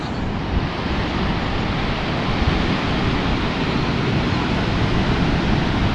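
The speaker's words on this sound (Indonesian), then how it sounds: "Dihantam ombak." Ocean waves crash against large rocks at Koka beach near Maumere, a continuous loud roar of surf with no break.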